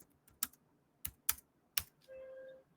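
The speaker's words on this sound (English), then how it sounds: "Now, if I type who am I here" A command typed on a computer keyboard during a cybersecurity simulator session: four or five separate close key clicks in an uneven rhythm, followed by a short steady electronic tone, with no talking.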